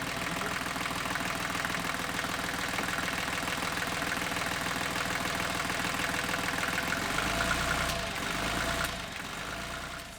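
A boat's diesel engine, restarted after a failure, idles steadily with an even, rhythmic knock, holding constant before easing slightly toward the end.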